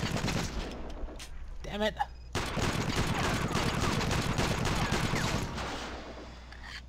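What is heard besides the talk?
machine gun fire in the video game Iron Storm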